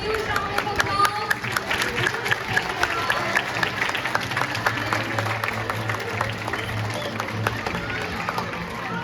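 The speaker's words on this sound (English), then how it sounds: "Give a huge round of applause." Ceremony audience at a student council oath-taking and award event applauding, many hands clapping in a busy continuous patter with crowd murmur and some voices mixed in.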